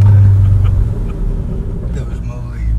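Deep engine rumble of a Volkswagen Golf 7 R with over 300 hp, close up, steady and heavy at low pitch, with brief voices mixed in.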